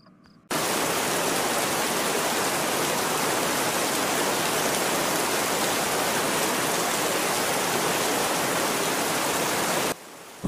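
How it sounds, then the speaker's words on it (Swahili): Steady, even rain pours down on a cold day in a Swahili 3D animated film, a dense unbroken hiss holding for about ten seconds before cutting off abruptly, with no voices over it. "mvua inanyesha"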